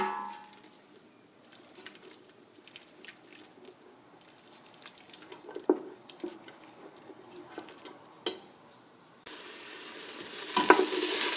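Diced onions, peppers and whole chilli fry on medium heat for chilli con carne, a soft steady sizzle broken by scraping stirs that grows into a louder, fuller hiss near the end.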